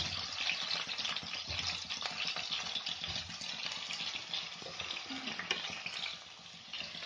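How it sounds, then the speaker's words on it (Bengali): Diced potatoes fry in oil in a pan, giving a dense, steady crackling sizzle with occasional scraping as they are stirred, close and continuous, with no voices. "আলুটা খুব ভালো করে কষতে হবে।"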